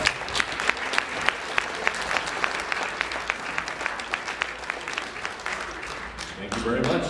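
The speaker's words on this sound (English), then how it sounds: "So give Jim Call a big round of applause." An audience applauds steadily for a performer introduced as a tuba player and comedian. The clapping is sustained and fairly distant, with sharper individual claps standing out and some crowd murmur near the end.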